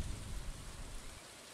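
Rain falls during a storm in Stardew Valley, a faint hissing wash with a low rumble of thunder rolling underneath before easing off.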